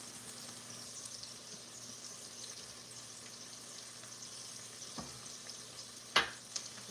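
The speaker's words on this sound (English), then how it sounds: "Give this a good stir and kind of coat it all up." Cornmeal batter for hoe cakes being stirred with melted butter in a bowl, a soft steady wet swishing close by, with a couple of sharper clinks near the end.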